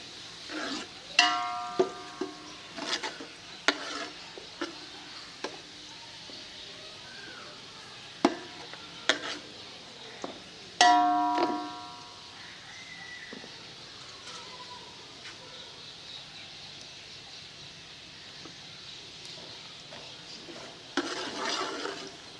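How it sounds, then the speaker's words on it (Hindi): Golden onions frying in a pan while being stirred, with sporadic clinks and scrapes of the utensil against the pan over a faint, quiet sizzle, in irregular bursts throughout. "प्याज हमारे मुकम्मल तौर पर भून चुके हैं"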